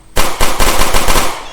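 Rapid automatic AK-47 fire in the video game Teardown: a loud, dense burst of shots that starts abruptly and runs continuously with a brief dip before ending.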